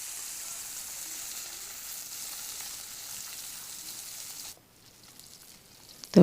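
Whole fish frying in a modest amount of oil in a pan, a steady close hiss of sizzling alone that drops away near the end before a sharp clatter.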